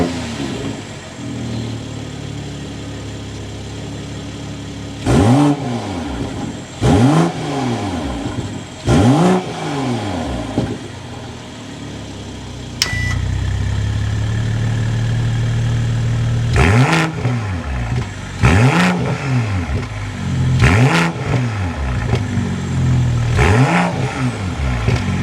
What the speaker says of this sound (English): Let's go inside, start it up so you can hear that exhaust note.